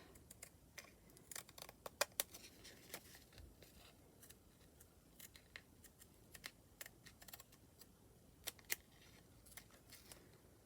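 Scissors snip into a playing card, a string of sharp, quiet clicks and crisp cuts spaced irregularly, close up in a hushed room.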